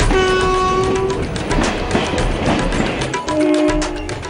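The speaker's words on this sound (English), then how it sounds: "all you need to be is on board a single train of the Indian Railways" An Indian Railways train rolls along loud and close, with a steady rumbling clatter of the cars and sustained horn tones sounding at the start and again near the end.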